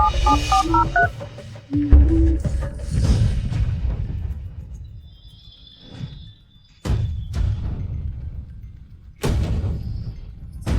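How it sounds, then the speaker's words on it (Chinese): A quick run of stepped telephone keypad tones sounds at the start, followed by low rumbles and a few sharp thumps. "叶晋生，我现在就打电话让合作方汇款"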